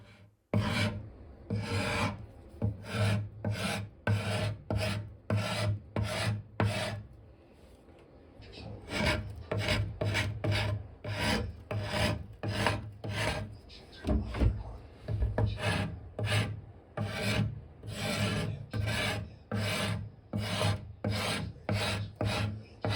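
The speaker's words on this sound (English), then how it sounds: "This is the part where you get to just play around and scrape off as much or as little as you want." Old finish being scraped off wooden furniture to expose dark brown wood beneath: a long series of close, rhythmic rasping strokes, steady and evenly spaced, pausing briefly partway before resuming at the same pace.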